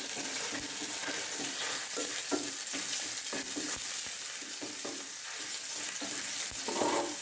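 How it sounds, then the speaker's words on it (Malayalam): Curry leaves and slit green chillies sautéing in a pan over high flame, a steady close sizzle broken by frequent scraping stirs, with no talking. "കറിവേപ്പില, ഇത്രയും നമുക്ക് വഴറ്റാം. ഹൈ ഫ്ലെയറിലാണ് ഇത് വന്ന്"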